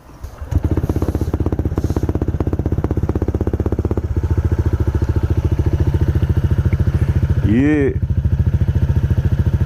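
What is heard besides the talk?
Honda Click 160 motorcycle exhaust, JAD Racing power pipe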